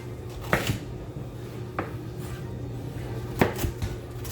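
Carrots are diced with a knife on a cutting board, making a few sparse, sharp chops against a low background hum, fairly quiet and close by.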